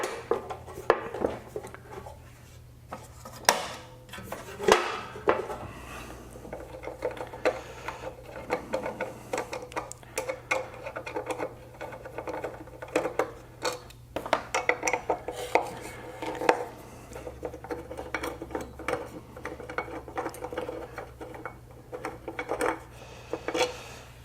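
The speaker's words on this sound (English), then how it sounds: "We'll just take these screws out, then we can pull the wheel off" Screws come out and the wheel is pulled off a band saw being converted for metal cutting, with scattered metallic clinks, taps and scraping handling noises over a low steady hum.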